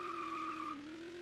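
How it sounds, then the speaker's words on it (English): A video game car skid sound effect: one sustained, steady tire squeal with a clear pitched tone, holding evenly with no variation and playing alone, fairly quiet. "Every single time I skid, no matter how long I skid for, it's just playing that one skid sound."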